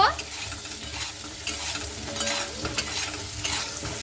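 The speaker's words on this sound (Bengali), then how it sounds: "খুব ভালো মতো করে নাড়াচাড়া করে নেব" Small red potatoes stirred with salt, turmeric and Kashmiri chilli powder in a pan, busy scraping and rustling over a steady sizzle, close and continuous, with no talking.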